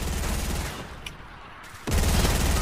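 SMG fire in Fortnite, a dense rapid burst that cuts out briefly and then returns as another loud stream of shots.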